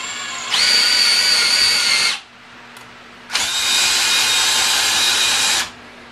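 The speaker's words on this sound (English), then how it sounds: "I just dedicated a drill to it, and it works great" Two bursts of a power drill whirring at high speed, close and loud, separated by a brief pause of near silence.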